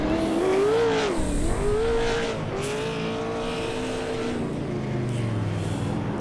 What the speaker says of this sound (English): let's see if he's going to do some burnouts